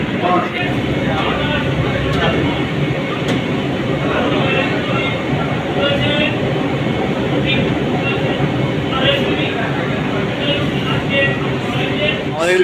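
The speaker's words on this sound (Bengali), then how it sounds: "ফার্স্ট স্টেশন চলে এসছে সত্যজিৎ রায় স্টেশন" A Kolkata metro train runs into Satyajit Ray station, a loud, steady interior rumble and rail noise overlaid with voices and an announcement-like tone.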